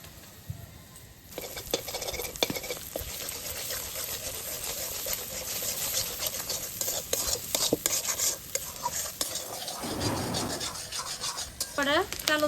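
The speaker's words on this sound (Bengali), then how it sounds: "তো ডিমগুলো ভাজা হয়ে গেছে," Two eggs with turmeric powder frying in a pan in a village kitchen, giving a steady soft sizzle with frequent scraping and stirring clinks of a utensil against the pan, close and continuous.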